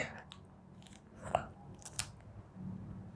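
Soft snack being chewed close to the mic, with a few quiet bites and crunchy mouth sounds spread over a few seconds against faint background noise.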